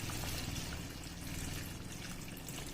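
Water poured into a pan of simmering chicken curry being cooked with grated mango, a steady continuous splashing rush that fills the whole short stretch with no talk.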